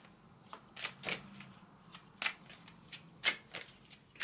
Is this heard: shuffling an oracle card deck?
yes